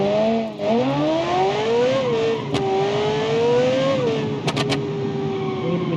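A supercharged car engine boosted with NOS in the Automation game, revving loudly and climbing through gears with rising, shifting pitch, punctuated by a few sharp pops or crackles.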